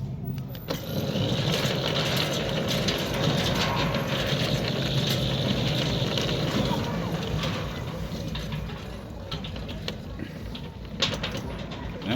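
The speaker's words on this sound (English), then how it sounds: "That there's no laboring on this gate motor" A Centurion D6 Smart gate motor, installed at a Midrand primary school, runs smoothly without laboring, giving a steady, close mechanical whirring drone that continues unbroken, with faint outdoor sounds behind it.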